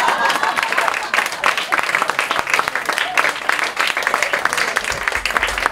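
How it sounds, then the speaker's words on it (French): Sustained applause from an audience fills the room at a live humorous stage presentation, with continuous dense clapping throughout and a low crowd murmur beneath. "On peut l'applaudir."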